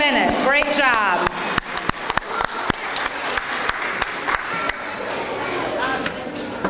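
Audience applause at a school awards ceremony honoring students, a loud wash of clapping with sharp individual claps standing out and voices in the crowd, steady throughout.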